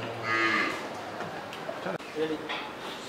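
Dairy cows on a farm in Faridpur moo in a long, loud low call near the start, then a second, fainter moo follows after a short pause, with people talking in the background.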